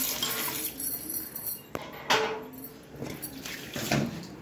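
Metal strainer and milk pot being rinsed with water in a home kitchen, giving scattered clinks and clatters of utensils over a steady wash of running water, fairly close and moderately loud.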